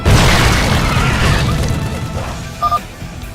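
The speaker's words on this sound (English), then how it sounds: "Let me try out these shredder grenades" A shredder grenade explodes in StarCraft II with a heavy, loud boom that rumbles off over a couple of seconds, followed by a couple of short metallic clicks.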